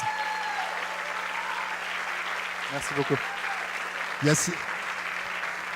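Audience applause at a French Heritage awards ceremony greets a teacher and musician, a steady wash of clapping beneath a brief spoken thank-you and a few nearby voices.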